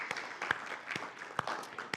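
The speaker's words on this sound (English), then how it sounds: "So I think we should clap for that too." A church congregation at an all-church meeting applauds briefly, a soft, fairly distant patter of clapping with a few sharper individual claps standing out.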